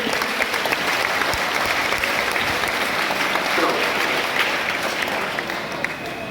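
Audience applause at an educational seminar on design thinking and satellite making, a steady dense clapping from a crowd that fills the whole stretch at a constant level with no voices over it.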